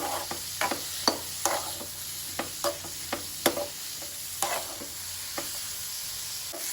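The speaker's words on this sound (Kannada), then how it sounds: "ಮೂಲಂಗಿ ಸ್ವಲ್ಪ ಮೆತ್ತಗಾಗಬೇಕು, ಅಲ್ಲಿ ತನಕ ಇದನ್ನು ಸ್ವಲ್ಪ ಫ್ರೈ ಮಾಡ್ಕೊಳ್ಬೇಕು" Radish frying in a pan for a spiced radish gravy, a low steady sizzle punctuated by regular sharp scrapes and taps of a spatula, close and moderately loud, with no talking.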